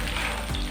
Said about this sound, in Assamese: 5 মিনিটমান সময় এই বগৰীখিনি মই এনেদৰে তেলতে গেছৰ জুইটো একেবাৰে কম কৰি পেলাই ভাজি থাকিম। এয়া মই ভাজি আছোঁ